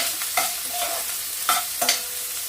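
Onion and green chillies fry in hot oil with tempering spices, a bright continuous sizzle punctuated by a few quick stirring scrapes, close and clear with no talking.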